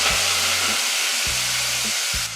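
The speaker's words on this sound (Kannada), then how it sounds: "ಇದನ್ನೆಲ್ಲ ನಾವು ಎಣ್ಣೆಗೆ ಹಾಕಿ ಫ್ರೈ ಮಾಡೋದ್ರಿಂದ ಒಳ್ಳೆ ಫ್ಲೇವರ್ ಕೊಡುತ್ತೆ ನಮಗೆ" Whole spices and chopped fenugreek leaves frying in hot oil, a steady loud sizzle and hiss with a low hum rising and stopping twice in the background.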